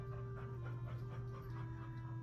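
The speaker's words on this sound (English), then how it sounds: "you might hear my dog panting and running around" A dog pants in rapid rhythmic breaths near an electrical hum, fairly faint and steady throughout with no barking.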